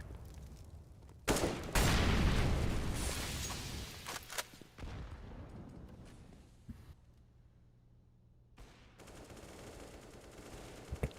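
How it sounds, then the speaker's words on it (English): Gunfire from a competitive Counter-Strike: Global Offensive match comes in a loud burst of rapid shots followed by scattered single cracks and quieter stretches of game background. "I do not know how Chaos missed that shot."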